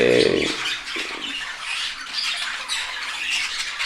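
A flock of pet budgerigars squawks and chatters continuously, a dense, loud mass of overlapping shrill calls with no voices.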